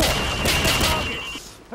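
Pistol gunfire in Call of Duty 4: Modern Warfare, a quick burst of loud sharp shots over game ambience with voices in the background, fading toward the end.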